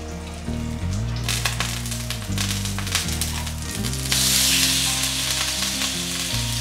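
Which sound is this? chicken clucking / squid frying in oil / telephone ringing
squid frying in oil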